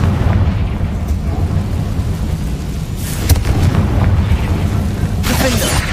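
A Confringo fire-blast spell goes off in Hogwarts Legacy. Heavy rumbling fills the clip, with loud booming bursts landing about halfway through and again near the end.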